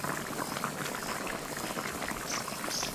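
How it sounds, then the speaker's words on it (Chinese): Bullfrog pieces and konjac simmer in a covered pot, giving a dense, continuous bubbling boil that stays steady and fairly close throughout. "我们盖上锅盖焖煮七分钟。"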